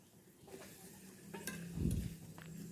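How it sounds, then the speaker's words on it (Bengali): Potatoes and spice paste sautéed in a pan, quiet stirring scrapes and soft sizzling with a louder scraping push near the end, close and faint, no talk. "আমি মশলাটা ভালো করে কষিয়ে এদিকে আলু কষিয়ে নিচ্ছি"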